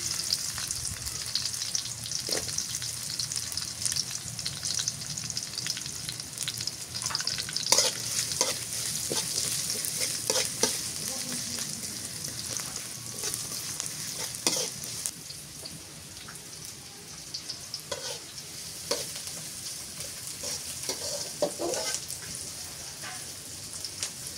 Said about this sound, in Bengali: পেঁয়াজ মরিচ ভাজা হয়ে গেছে